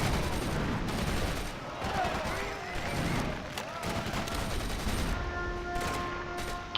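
Gunfire and explosions crackle in bursts during an assault on an artillery battery in Axis & Allies at the Battle of Stalingrad, dense repeated shots over a battle din, with tonal game effects entering toward the end.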